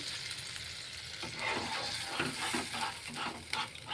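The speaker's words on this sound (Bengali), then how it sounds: "একটু নাড়াচাড়া দিয়ে দিচ্ছি যেন মশলাগুলো ঝোলের সঙ্গে মিশে যায়" A spoon or spatula stirs fish curry with taro, fried spices and added broth in a pan. The scraping and sloshing are close, over a low sizzle, and grow busier partway through.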